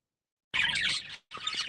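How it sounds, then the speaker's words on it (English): Outdoor birds chirp and squawk in two bright, busy bursts separated by a short gap, heard close and clear over a phone line with no talking. "You're getting the birds in the background then."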